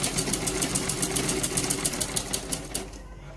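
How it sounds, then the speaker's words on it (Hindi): Sewing machine stitching pleats into a baby frock, a steady fast mechanical whir with rapid regular needle ticks throughout, fairly close and continuous until it slows and stops at the very end. "अब इसकी सिलाई स्टार्ट करते हैं।"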